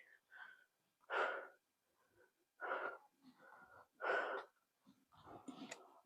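A person climbing a rocky uphill path to a hillside temple breathes heavily in several loud, wheezy gasps spaced a second or two apart, close and alone with brief quiet gaps.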